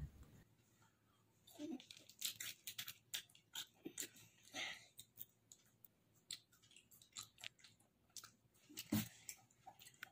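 Crispy palak pakoda fritters with a potato filling are eaten close up, giving a rapid series of crunchy bites and chewing in irregular bursts. A soft voice murmurs briefly between bites.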